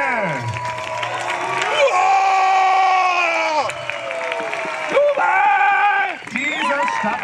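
Crowd cheering at a night-time knights' tournament in Königstein, a loud sustained roar of voices with whoops and shouts rising and falling across the clip, swelling in bursts near the end.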